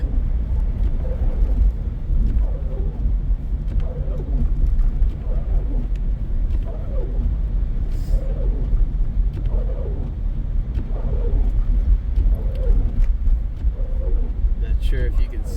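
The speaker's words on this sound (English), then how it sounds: "all these little cars driving around like they gotta be somewhere in all this snow." Cars driving through a heavy snowstorm, a constant loud low road rumble with wind buffeting and soft rhythmic whooshes recurring every second or so.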